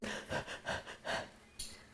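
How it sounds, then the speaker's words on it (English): Heavy, rhythmic breathing while holding a still yoga side angle pose, about four deep breath cycles in quick succession, close and fairly loud, ending in a sharper inhale. "Anyone else kind of breathing heavy right now?"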